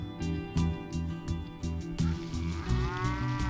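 A cow gives a long, low moo, drawn out and fairly close, over a steady droning background with faint clicking.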